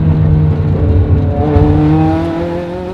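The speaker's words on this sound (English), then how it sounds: "It's 410 brake horsepower, Ferrari V8, currently sitting through straight pipes" A Ferrari 360 race car's 410 bhp V8 on straight pipes revs loud and close, its harsh engine note climbing and sustaining, then easing off slightly.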